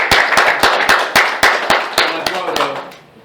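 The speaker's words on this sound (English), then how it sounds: "So please give him a nice round of applause." A gathered audience at a family event gives a short round of applause, sharp, close claps in an uneven rhythm that thin out and fade over a few seconds.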